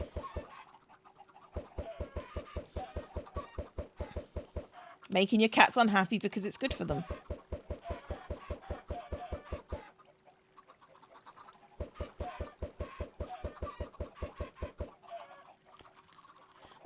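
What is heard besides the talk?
chickens clucking while being hit, from video game Minecraft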